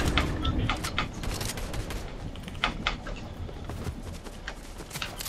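Gunshots in a shooting video game, a rapid scatter of sharp cracks and bursts spread throughout, fairly faint and distant, with voices talking over them.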